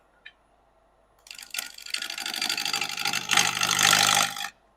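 A wood lathe spins a cherry wood piece at about 800 RPM, a steady whirring hiss that starts after a short quiet moment, swells and holds, then cuts off near the end, with no talking.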